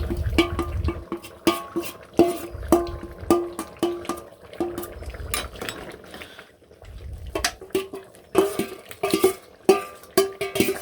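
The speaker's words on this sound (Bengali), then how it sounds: "এখন যে মশলাটা বানাইলাম ওই মশলাটা তরকারির মধ্যে মিশিয়ে দেবো" A spoon scrapes and clinks against a metal pot as freshly ground spice paste is stirred into a nearly finished home-cooked curry, giving repeated rhythmic ringing knocks with brief pauses and soft liquid sloshing underneath.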